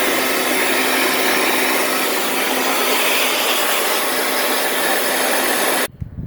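A loud, steady rush of blown air dries a freshly detailed car engine, continuous and close for several seconds before cutting off abruptly.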